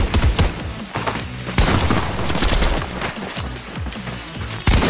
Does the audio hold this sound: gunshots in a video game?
yes